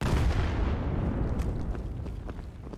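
Grenade explosions in the shooter game Vail during a competitive match, a loud, dense rumbling blast that fills the clip and slowly decays with faint crackling.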